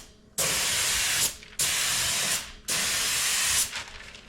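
Spray gun applying paint to the bodywork of a 1986 Chevrolet Camaro Z28, three close, loud sustained hissing bursts of about a second each with short gaps between them.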